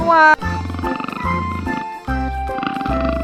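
A toy leopard gives a series of growling roars, loud and close, mixed with a bright jingly toy tune that plays throughout.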